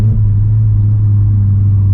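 Vauxhall Corsa engine rumbling steadily just after a gear change while driving, a loud, close, even low drone with no speech over it.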